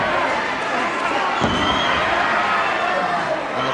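Wrestling crowd at a World of Sport bout cheering and roaring continuously, a dense loud wash of many voices with a sharp thud partway through.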